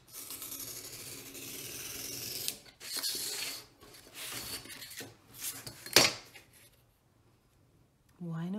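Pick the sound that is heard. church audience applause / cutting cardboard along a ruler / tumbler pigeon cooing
cutting cardboard along a ruler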